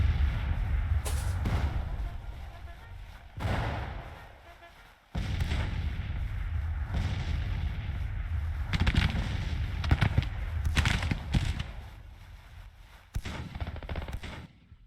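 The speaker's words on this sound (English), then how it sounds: "The guns are all firing on them." Artillery batteries fire repeatedly in the Civil War strategy game Grand Tactician, heavy booming blasts arriving in irregular clusters over a rumbling battlefield din, loud and layered with overlapping reports.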